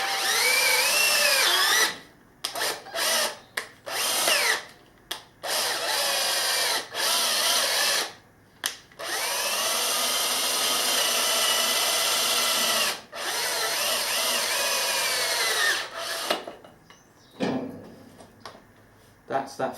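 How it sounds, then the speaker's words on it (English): A power drill bores out a damaged thread to tapping size for a thread repair kit, running in loud, sustained bursts separated by short pauses and a few softer scraping handling sounds. "That's that felled thread drilled out to the correct tapping size for the thread repair kit."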